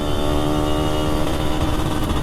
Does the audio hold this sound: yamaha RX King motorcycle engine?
yes